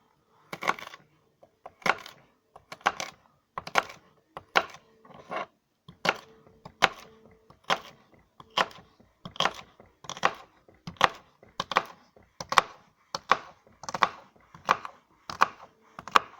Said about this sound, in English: Just drive the blade into the board, let the knife do its job.